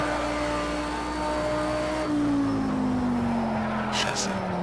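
A Lamborghini Super Trofeo race car in Project Cars 2 runs at full throttle, a loud, close engine drone whose pitch holds and then slides gradually downward, with a voice talking over it.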